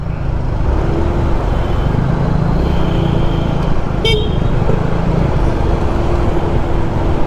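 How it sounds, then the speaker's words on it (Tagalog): Loud, dense road traffic in a jam, with a continuous rumble of car and motorcycle engines, several horns honking, and one sharp short toot standing out midway. "Ito na yung traffic."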